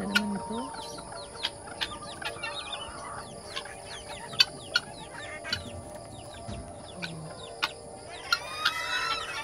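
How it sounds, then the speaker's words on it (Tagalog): Free-range chickens cluck on a farm, with scattered soft clucks and short calls at moderate distance over a quiet outdoor background, plus occasional sharper chirps and a brief burst of activity near the end. "Chickens. Naka-free range yung chickens."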